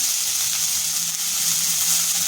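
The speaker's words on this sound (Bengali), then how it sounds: "কড়াতে 1 চামচ মতন তেল দিয়েছি, তার মধ্যে আমি দিয়ে দিচ্ছি আলু কুচো" Finely chopped potato fries in about a spoonful of oil in a wok, giving a loud, even, close sizzle that holds steady throughout without any voices.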